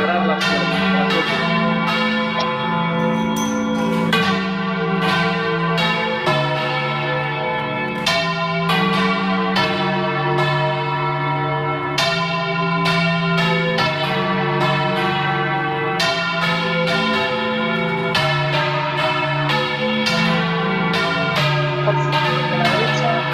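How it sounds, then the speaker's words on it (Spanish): A church bell in the Ribera del Duero, swung and rung by hand with ropes, peals loudly in a steady rhythm of ringing strikes that overlap and sustain throughout. "Empieza a voltear la campana."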